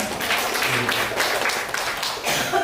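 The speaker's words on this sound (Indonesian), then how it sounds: "Sekali lagi tepuk tangan untuk Bapak Ibu sekalian." Applause from participants in a teacher-training class session, a steady wash of clapping from a small group filling the whole stretch, moderately loud with some low murmuring underneath.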